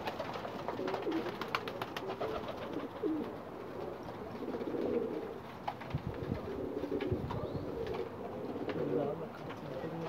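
Pigeons in a loft coo in soft, repeated throaty calls, several birds overlapping close by, with occasional faint human voices in the background.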